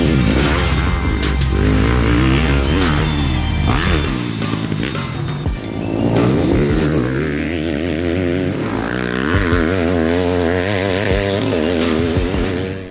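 A 2020 Yamaha 250 four-stroke enduro motorcycle with an Akrapovic exhaust, its engine loud and close, rising and falling through repeated revs and gear pulls with a sharp, buzzy exhaust note and no talk.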